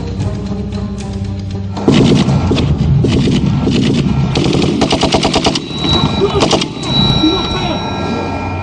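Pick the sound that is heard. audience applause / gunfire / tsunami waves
gunfire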